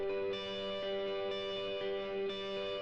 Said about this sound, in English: I've got some reverb on it.